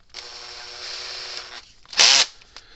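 A small drill bores a hole during repair of a Gallagher M600 electric fence energizer, a close, steady motor whine lasting over a second, followed after a pause by a short, louder burst of drilling.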